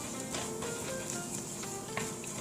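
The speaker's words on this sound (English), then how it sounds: "just saute the flour in the butter for a few seconds so that the raw smell of the flour goes away" Flour sautéing in butter in a pan for tomato soup gives a steady, close sizzle with faint crackles and pops throughout, heard alone.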